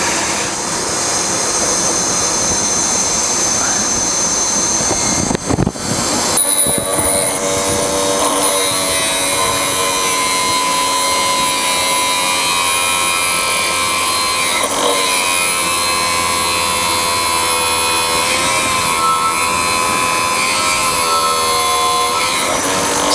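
An endmill is ground and sharpened on a grinding machine, a loud continuous whine and hiss with shifting tones that runs the whole time, briefly interrupted once near the start.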